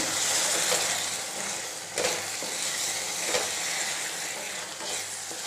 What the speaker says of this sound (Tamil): இப்போ வந்து இதில் பால் ஊற்றிக்கலாம்.